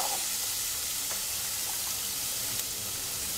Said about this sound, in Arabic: نديروا مغرف تاع الزبده في طنجره، راح نضيف عليها البصل، حبه تاع بصل مقطعه صغير.